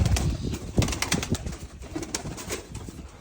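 Several soft, low bird calls and flutters close by, consistent with pigeons cooing, with irregular rustling and no voices.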